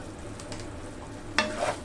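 Red chili dropped into sautéed sardines in a frying pan, a steady low sizzle that swells into a brief louder crackle and stir near the end.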